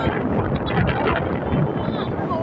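Strong wind on a hilltop buffets the microphone in a continuous loud roaring rush for the whole stretch, with no pause.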